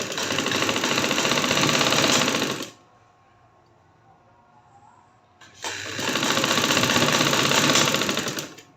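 Sewing machine stitching a sleeve seam on a baby girl's garment, two loud continuous whirring runs separated by a near-silent pause of about three seconds.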